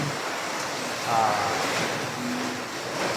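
Typhoon wind roars steadily with a wash of intermittent rain noise, swelling and easing slightly over a few seconds, in Lipa City, Batangas.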